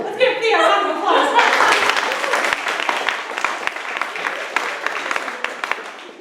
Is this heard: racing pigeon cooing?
no